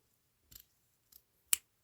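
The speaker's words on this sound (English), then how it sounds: "And then I'm going to take my scissors." Three quick snips of scissors cutting satin cord, the last one the sharpest and loudest, close up in a quiet room.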